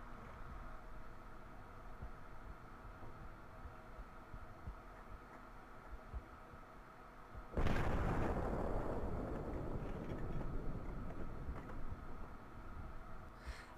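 A single gunshot in Counter-Strike fired by s1mple lands sharply after a stretch of quiet background hum, then a decaying rumble trails off.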